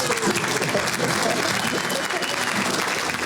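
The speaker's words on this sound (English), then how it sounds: "Give him a round of applause." A town hall crowd in New Hampshire applauds, a dense, steady wash of clapping at full volume that holds evenly for the whole stretch, with voices faintly underneath.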